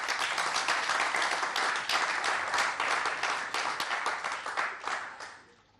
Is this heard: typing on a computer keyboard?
no